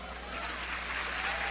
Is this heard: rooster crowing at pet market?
no